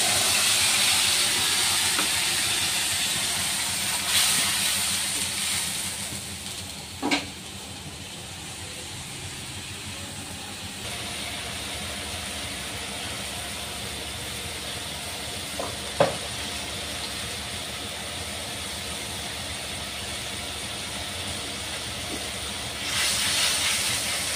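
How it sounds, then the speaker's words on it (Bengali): Ground spice paste fries in a pan with a continuous hiss that stays steady throughout. A few sharp clicks and pops stand out from it, and no one speaks. "দেখো মশলাটা এখন কষে নিচ্ছি"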